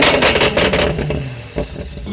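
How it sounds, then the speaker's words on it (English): BMW M5 with a titanium exhaust revving: a loud, close, raspy engine roar that swells and dips briefly, with no talk. "I guess that's the titanium exhaust for you"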